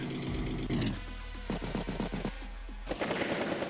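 A battle copter attacks a tank in Advance Wars by Web, a turn-based strategy game. It comes as a quick, rhythmic run of sharp gunfire-like hits over a low, steady game drone, with music around it and no voices.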